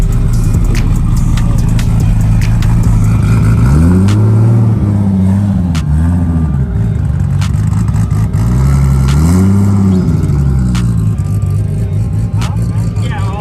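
A modified Toyota Supra idles loudly at a big car meet, its lumpy choppy idle pulsing with periodic rising revs, while people talk nearby.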